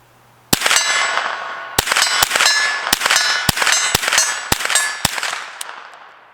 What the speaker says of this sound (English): getting shots in pretty fast at a 60-yard 2/3 size silhouette